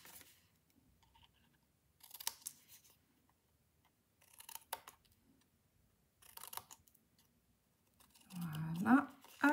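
Paper being cut and bevelled for a scrapbook shaker box, three short bursts of quiet snipping and scraping separated by silence, followed by a louder rustle of handled paper at the end.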